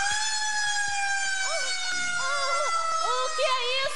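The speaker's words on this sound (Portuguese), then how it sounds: "É a sirene do departamento de polícia" A police siren wails steadily at moderate volume, with wavering tones layered over a sustained pitch, during a stage comedy show.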